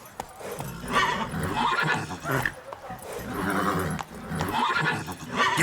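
Horse in The Witcher 3 video game, set in the Toussaint festival region, neighs and whinnies loudly over steady clip-clop of hooves while being ridden, with brief spoken game dialogue and music in the background.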